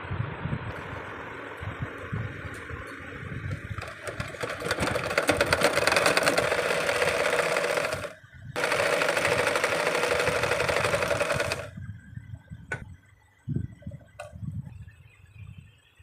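A sewing machine stitches a readymade shirt, running in two long, loud bursts with a short gap between them, then stopping to leave faint handling clicks and knocks nearby.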